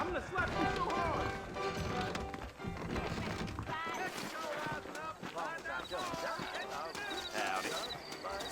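Horse hooves clip-clopping along a trail in the Red Dead Redemption video game, steady rhythmic steps running throughout under game music and people talking.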